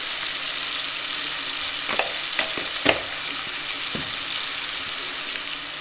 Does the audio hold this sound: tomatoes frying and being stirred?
yes